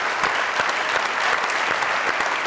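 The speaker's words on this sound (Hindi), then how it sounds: "बंधन के लिए बहुत सारी तालियां।" A studio audience at a comedy talk show applauds in a dense, sustained burst of clapping that is fairly loud and even throughout.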